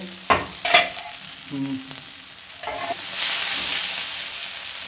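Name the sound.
cabbage frying in a pan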